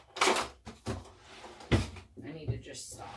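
Wooden drawers in a home craft area are pulled open and pushed shut, giving several short thumps and scrapes in quick succession, close and fairly loud.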